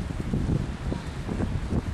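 Strong wind buffets the microphone outdoors on an open hillside, a steady broadband roar with gusty low-frequency rumbles rising and falling throughout, loud and continuous with no voices.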